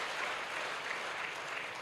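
Audience applause fills a live evening talk gathering for young people in Ranchi, a dense, even wash of many hands clapping together without pause and no voices standing out.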